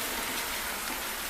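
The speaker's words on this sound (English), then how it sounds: "since it's still raining, we couldn't do the grill" Steady rain falls on a surface outdoors, a dense continuous hiss with no voices, loud and close throughout.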